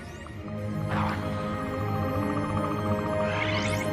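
An orchestral Skeleton Crew theme cue for the At Attin coordinates swells with sustained brass-like tones and rising sweeping flourishes, steady and full throughout without talk.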